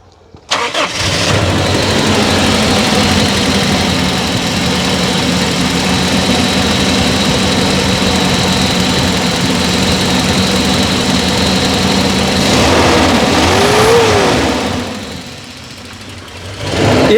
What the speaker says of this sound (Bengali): আচ্ছা স্টার্ট করেন ভাই, এবং ইঞ্জিনটা আপনাদেরকে ভালো করে দেখাই দিই